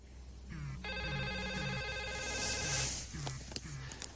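An old-style telephone rings in a sustained electronic trill, close and clear, over a quiet low hum, with a few short tones and clicks around it.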